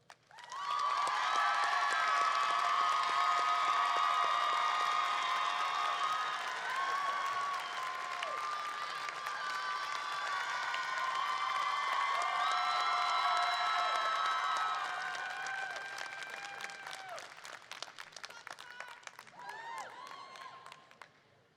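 A commencement audience at Grand Valley State University bursts into sustained applause with cheers and whoops, a dense crowd roar that holds for about fifteen seconds before thinning into scattered claps and voices.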